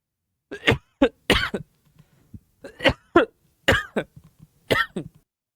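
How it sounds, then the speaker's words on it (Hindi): A string of harsh coughs in short bursts, close and fairly loud, with brief pauses between fits and no talking. "खांसी आ रही"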